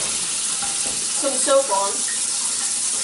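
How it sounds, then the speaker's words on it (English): Water running from a kitchen tap while hands are washed, a steady broadband hiss throughout, with a person talking briefly over it. "You're going to want to run the water, get your hands all wet and nice"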